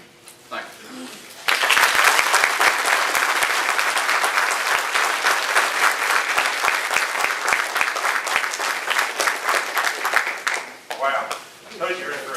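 A large audience at a sports hall of fame ceremony breaks into sustained, loud applause after a brief quiet start; the clapping holds steady for about nine seconds, then thins and fades near the end.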